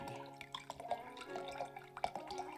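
In the card-cheating game Card Shark, wine trickles and drips steadily as it is poured slowly, a soft close liquid sound with small splashes over a quiet tonal music bed.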